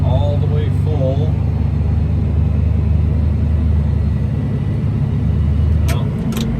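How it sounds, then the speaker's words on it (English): A tractor pulling a potato harvester labors slowly uphill, its engine a deep steady rumble throughout, loud and close, with someone talking over it. "I have a little hill right here that I'm going up, so I have to go slower because the tractor just can't do it."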